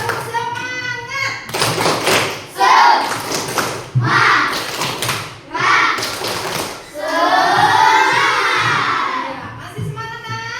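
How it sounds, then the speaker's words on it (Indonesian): A class of children performs a rhythmic spirit clap, bursts of unison clapping mixed with loud group chanting and shouting, while a teacher's voice leads between the rounds. "Tepuk semangat."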